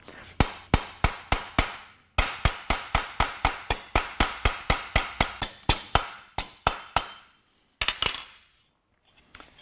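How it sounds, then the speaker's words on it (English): Sharp metallic hammer blows strike sheet metal held against an exhaust donut used as a dolly, close and loud in quick regular bursts of about two per second, briefly pausing at two seconds, then resuming before a final short flurry. "I can improve the finish a lot by hammering against this, using it like a dolly."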